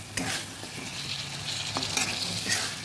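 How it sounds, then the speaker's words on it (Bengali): Boiled chickpeas stirred into spices frying in a pan for a vegetarian kabuli chana curry, with steady sizzling and a few soft scraping stirs throughout. "এবার দিয়ে দেবো ছোলাগুলো।"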